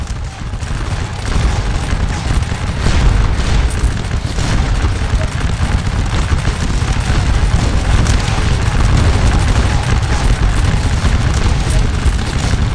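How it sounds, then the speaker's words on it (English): Infantry musket fire in the Scourge of War: Waterloo game during a Nassau Light Infantry advance, a dense, continuous crackle of overlapping volleys and booming reports at steady loudness throughout, with talk faintly underneath. "you can see they're trying to fire in advance themselves"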